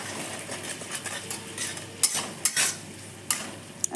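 Spice masala with turmeric and salt is sautéed in a pan for a potato omelette curry, with a soft frying sizzle and a few sharp metallic spatula scrapes and clinks.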